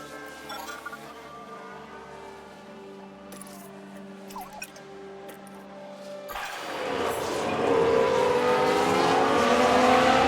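Engines in the F1 Manager 22 video game whine and drone steadily, then a louder burst of roaring, squealing Formula 1 race-car noise swells for the last few seconds.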